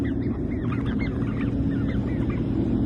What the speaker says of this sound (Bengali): এগুলো তো আমার দেশি হাঁস